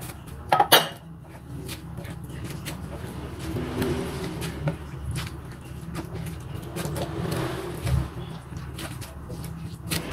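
Batter for bakwan keranjang being stirred with added carrot and cabbage slices: scattered clinks and scrapes of a utensil against a bowl, with a sharp clatter near the start and softer stirring sounds after, alone.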